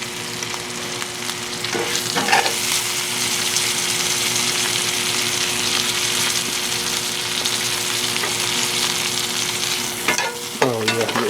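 Porterhouse steak sizzling in a pan with garlic, butter and herbs, a loud, constant close-up fry with spoon-basting clinks and a few splattering bursts.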